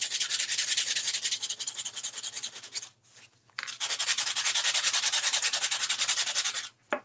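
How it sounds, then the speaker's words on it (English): Sandpaper rubbing over the top of a wine cork craft piece in long, rapid back-and-forth strokes, loud and close, with a short pause midway and another near the end. "I'm just going to take a piece of sandpaper and just kind of go over the top."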